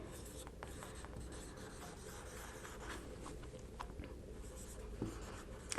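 Pen scratching steadily across paper for several seconds in a quiet room, soft continuous strokes with occasional small taps, writing out a notice during a polytechnic communication skills lecture.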